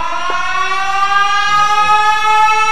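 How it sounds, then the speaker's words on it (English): A loud, close siren wails on a radio show, its steady harmonic tone droning throughout with a slight downward drift in pitch and no talk over it. "We got the siren going."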